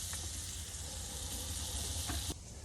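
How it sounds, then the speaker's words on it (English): Onions sizzle in hot melted butter on a large griddle, a steady dense hiss with faint crackles, close and even, and it stops abruptly near the end. "Just flop them down on the griddle surface there."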